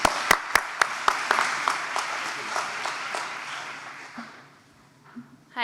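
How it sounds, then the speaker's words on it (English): An audience gives a round of applause at an event, a few sharp distinct claps at first, then a fuller burst of clapping that gradually fades out over several seconds. "I want you to give them a big round of applause"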